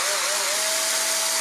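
Small power drill boring a hole for a 3 mm axle on a homemade rubber band car, a steady, loud, high whine held continuously without a break.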